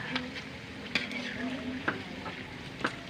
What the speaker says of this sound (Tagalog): Medyo halo-haloin lang natin para kakalat yung sugar